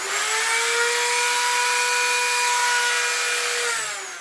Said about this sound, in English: we're going to go ahead and Dremel it out